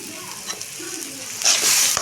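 Spices are stirred and sautéed in a pan for peanut chutney, a steady close sizzle that swells louder toward the end, with no talking.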